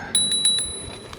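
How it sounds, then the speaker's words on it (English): An electric scooter's handlebar bell, on an Inmotion Climber, rings out in two or three bright, close metallic dings, each left to fade and ring on, heard alone without voices. "There's my bell."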